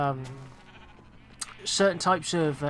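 Several bleats from Minecraft sheep on a game farm, in quick succession and fairly loud toward the end, following a stretch of softer background voice.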